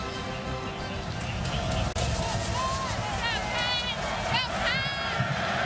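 A home football stadium crowd at Kansas State roars after a touchdown in the Big 12 Championship against Texas. A dense, loud crowd roar fills the whole stretch, with whistles and shouts rising over it.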